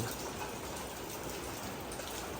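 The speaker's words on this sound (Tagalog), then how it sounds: "Naulan na naman po." Steady rain falling outdoors during a rainy spell, a continuous even hiss of drops on surfaces with no pauses, fairly soft and close, and no voices.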